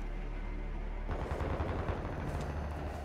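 Video game gunfire from enemies on a hillside, a dense rattling burst of rapid shots starting about a second in and continuing loudly to the end.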